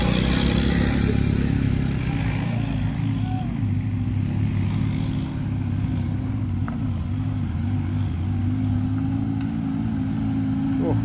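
A car engine labours steadily uphill on a damaged, steep ravine road at Klampok, a loud continuous drone with faint voices in the background.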